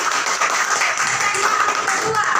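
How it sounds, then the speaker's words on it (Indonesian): A school class gives a short burst of steady applause in the classroom, a dense patter of many hands clapping at once. "Tepuk tangan dulu."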